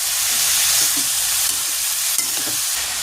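Chopped snake gourd stirred into frying onion and green chilli in a hot pan gives a steady, close sizzle with soft scraping stirs throughout, no voices.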